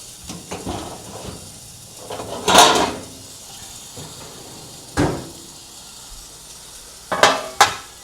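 Food sizzling in a covered pan on a home stove, a quiet steady frying hiss broken by a few louder clanks of the lid and cookware and some brief knocks of kitchen handling.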